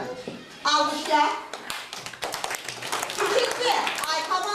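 Kindergarten children applauding in class after a team finishes an activity, a burst of uneven clapping with excited kids' voices and chatter mixed in, close and lively.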